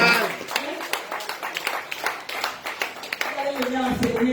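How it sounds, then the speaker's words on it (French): A church congregation claps in a quick, uneven burst of handclaps close by, heard together with voices calling out and talking throughout. "Applaudissez pour moi et pour le Seigneur."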